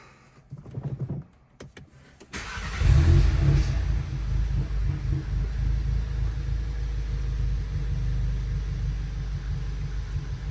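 A Volkswagen Mk7 GTI with a COBB Accessport Stage II tune cranks briefly, catches and settles into a steady low idle rumble close by, following a few faint clicks.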